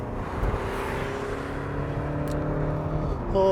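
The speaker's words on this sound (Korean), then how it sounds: "가속 페달을 밟고 차가 나갈 때의 느낌" Volkswagen Tiguan 2.0 TDI 4Motion diesel pulls away under acceleration, a droning engine with rising harmonic tones and tire and road rumble heard from inside the cabin; no talking.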